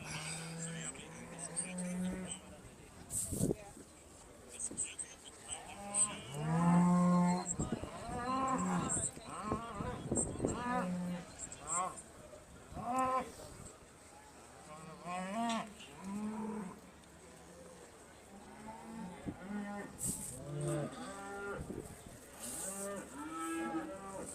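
Aberdeen Angus and Beef Shorthorn cattle low repeatedly around a show ring, several long moos rising over a steady crowd murmur and background chatter, with a few closer, louder calls among fainter ones.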